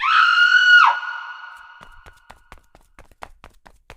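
A woman's hysterical scream, loud and sustained for nearly a second, breaks off into hurried footsteps as someone runs out of a room, a horror-story sound effect.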